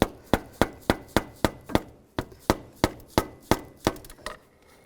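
A pry bar taps a power steering pump off its bracket on a 2005-2015 Nissan Xterra, about a dozen sharp metallic knocks in quick, even rhythm, close and loud, fading out at the end.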